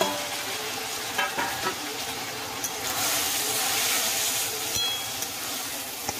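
Continuous loud sizzling hiss of tomatoes frying with onion in a pan for paneer bhurji, with occasional soft scrapes of stirring and no talk.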